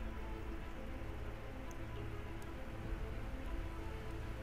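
Steady rain falling in the survival game Project Zomboid, a constant soft hiss of drops on surfaces that fills the scene evenly from start to finish, with no talk over it.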